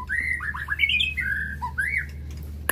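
A long-tailed songbird sings loudly and close, a quick run of bright whistled and squawky phrases rising and falling, with a low steady hum underneath and a sharp click near the end.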